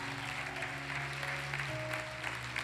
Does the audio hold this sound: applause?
yes